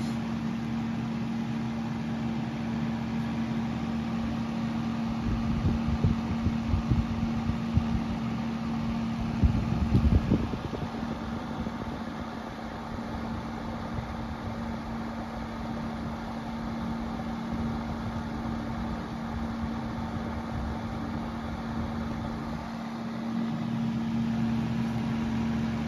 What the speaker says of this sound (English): So here's fan. Like I said, it seems to blow a little more air than most heater fans.